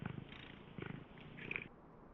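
A video game cat purring in low, rumbling pulses that repeat in short bursts, fairly close and steady, with a brief brighter chirp near the end.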